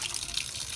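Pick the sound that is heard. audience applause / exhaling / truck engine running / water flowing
water flowing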